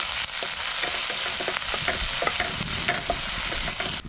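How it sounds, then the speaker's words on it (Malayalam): Ginger, garlic and shallots sauté in a pan for a moda fish curry, a continuous close sizzle broken by repeated scraping stirs of a spoon against the pan, with no one speaking. "ഇനി അതിൻ്റെ പച്ചമണം മാറുന്നത് വരെ നന്നായിട്ടൊന്ന് വഴറ്റി കൊടുക്കും."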